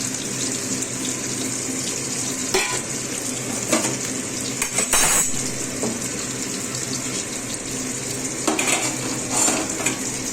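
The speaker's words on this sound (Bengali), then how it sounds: "মাছগুলো এবার নামিয়ে নেবো একটা করে।" Pieces of fried rohu fish are lifted one at a time from a sizzling pan. The oil crackles steadily up close, broken by several sharp metallic clinks of a utensil against the pan, with no talking.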